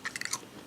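Crisp crunching bites into dehydrated apple slices with the skins on, several quick sharp crunches in a row, close to the mic with no talk.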